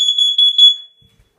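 A Nest carbon monoxide alarm sounds during a test: one loud, shrill electronic tone, close and alone, lasting under a second before it cuts off into silence.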